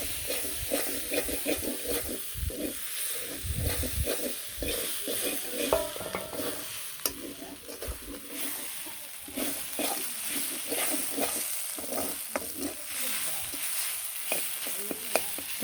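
A spice mixture of ground cumin and garam masala frying in a pot while being stirred and mixed, with a steady sizzle and repeated scraping strokes that carry on unbroken, close by, with no talking.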